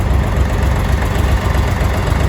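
A DTZ 5354 HPX small tractor engine runs loudly and steadily nearby, with a rough, even idle-like rumble throughout.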